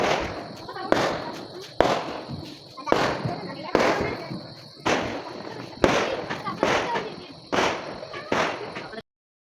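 Firecrackers bursting in open air during a Vishu festival celebration, sharp loud cracks arriving in an irregular series of about a dozen bangs, with a steady insect-like whine and crackle running underneath throughout.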